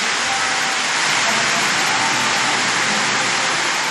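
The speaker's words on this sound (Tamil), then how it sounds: "காற்றுடன் மழை பெய்தது" Heavy rain driven by wind in Palani, Dindigul district, pouring in a dense, unbroken broadband hiss that stays loud and steady throughout, with no voices audible over it.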